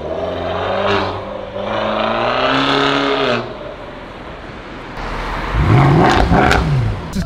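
A tuned 320 with downpipes and a Stage 1 remap of about 210 hp accelerates hard on the road, its engine note climbing and falling through the revs, then surging again loud and close.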